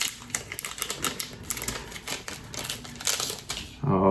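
Marvel collectors booster pack of trading cards torn open slowly by hand, a dense run of crinkling foil and paper rips up close, with a brief burst of voice right at the end.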